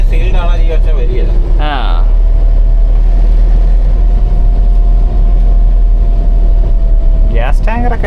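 Constant diesel engine drone inside a 2024 Force Traveller 2.6 CRDi van with its engine cover slightly open, loud and close, with someone speaking at the start and end.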